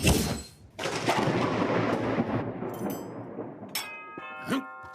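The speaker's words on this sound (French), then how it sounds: "Un orage arrive et va enfin mettre un terme à cette vague de chaleur." A cartoon thunderstorm arrives with a heavy rumbling thunder crash that slowly decays, followed by a few bright metallic dings and short tonal effects near the end.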